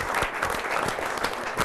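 Applause for the Calcio Padova football team, a steady burst of clapping from a gathered crowd, close and continuous with no talk over it.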